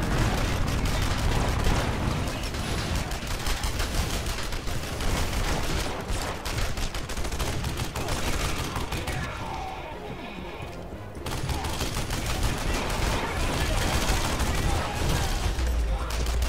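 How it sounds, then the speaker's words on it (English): Heavy gunfire in Red Faction Guerrilla pours onto the player as a loud, continuous fusillade of rapid shots and impacts, with a brief lull midway before the barrage resumes, and a voice talking underneath. "I just got shot a lot."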